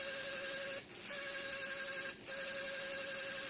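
Electric motor of a Borg costume driven by an H-bridge, giving a steady rough whine that cuts out briefly twice as it switches direction.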